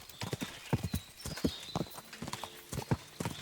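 Horse hooves gallop in a fast, steady clip-clop rhythm on a road in Kingdom Come: Deliverance 2, close and prominent, with faint voice-like sounds mixed in.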